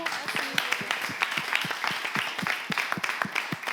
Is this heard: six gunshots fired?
no